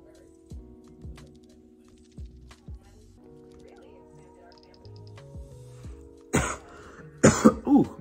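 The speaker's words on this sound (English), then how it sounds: "This is definitely making you cough a little bit." Several short coughs and throat clearings after vaping a strawberry lemonade cartridge, scattered across the first seconds with quiet gaps between them, then a louder harsh burst of coughing near the end.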